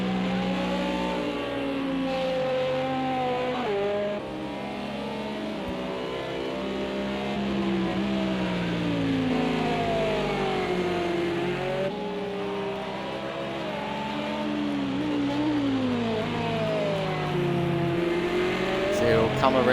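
Race cars lap Hockenheim near the end of a 10-hour endurance race, engines revving and shifting through continuous rising and falling pitch sweeps as cars pass, with a commentator talking over the steady engine roar.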